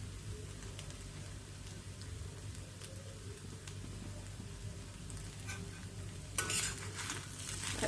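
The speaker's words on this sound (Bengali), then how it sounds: "এটা ভাজা ভাজা হয়ে গেছে" Fish tikki mixture sizzles steadily in a hot pan, a continuous frying hiss with light stirring scrapes throughout, slightly brighter near the end.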